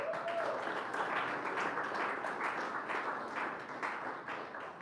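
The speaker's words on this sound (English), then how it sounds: "Please give him a big round of applause." A crowd applauds steadily, dense clapping holding at an even level for several seconds before easing slightly at the end.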